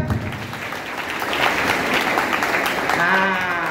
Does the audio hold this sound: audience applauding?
yes